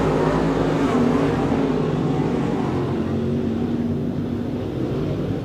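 Super late model race cars at Off Road Speedway roar back up to speed after a restart, a dense, rumbling engine drone that stays loud and steady, easing slightly toward the end.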